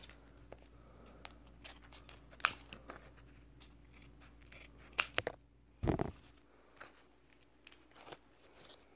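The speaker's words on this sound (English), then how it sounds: "Get a pair of scissors to fucking open this shit." Scissors cut open a pack of Buffalo Bob's kangaroo jerky, giving several sharp, close snips and crinkles spread over a quiet stretch.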